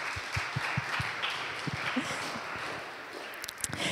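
A church congregation claps at a German service, a dense, even wash of applause with a few sharper individual claps standing out throughout.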